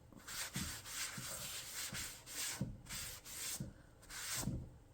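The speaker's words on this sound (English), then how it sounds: "And just wipe it back a bit." A stencilled finish is wiped back by hand on an Ikea cabinet, giving quiet, rhythmic rubbing strokes with soft scuffs roughly every half second, close to the microphone and without talk.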